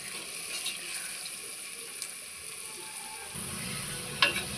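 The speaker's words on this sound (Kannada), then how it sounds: "ಇದೀಗ ಚೆನ್ನಾಗಿ ಗೋಲ್ಡನ್ ಕಲರ್ ಆಗಿ ಫ್ರೈ ಆಗಬೇಕು ಫ್ರೆಂಡ್ಸ್" Onions frying in hot oil in a pan until golden as a prawn biryani garnish, a soft steady sizzle close by that swells slightly near the end, with a brief clink.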